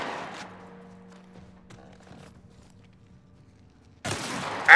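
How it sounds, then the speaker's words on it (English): A shotgun fires in The Last of Us Part 1, with a sharp blast at the start, a quiet stretch with faint scuffs, then another loud burst near the end. "Shotgun!"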